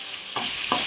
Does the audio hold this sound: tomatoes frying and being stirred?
yes